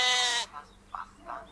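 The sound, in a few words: sheep bleating while grazing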